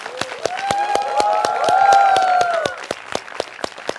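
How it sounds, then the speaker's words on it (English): A game-show audience at a tech competition grand finale claps in a crisp, regular rhythm for a team, with sustained tonal music swelling underneath in the middle before the beat carries on alone. "A big round of applause for Team Bosch."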